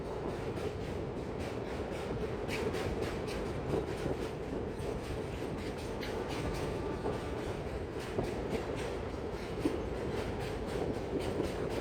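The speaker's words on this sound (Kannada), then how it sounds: "ಸೊ ಗೂಡ್ಸ್ ನ ಒಂದು ರೈಲು ಬರ್ತಾ ಇದೆ ನೋಡಬಹುದು." A goods train crossing the Almatti railway bridge, heard as a continuous rumble of rolling wagons with repeated wheel clatter, steady and moderately distant, no talking.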